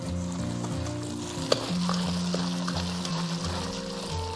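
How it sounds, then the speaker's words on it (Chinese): Minced pork sausage filling with corn starch being stirred in one direction in a bowl, a steady wet mixing and slapping sound with faint sizzle-like texture, continuous and close, no talking. "先朝一个方向给它搅匀"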